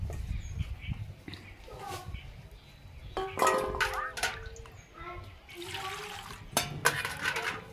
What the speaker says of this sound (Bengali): ধনে পাতাটাকেও ধুয়ে নিচ্ছি আর লঙ্কাটাকেও ধুয়ে নেব।